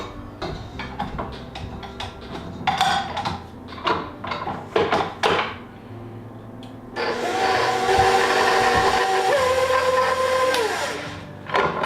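Electric stand mixer creaming two sticks of room-temperature unsalted butter with sugar: a few short clunks and bursts at first, then a steady, loud whirring drone for several seconds before it winds down.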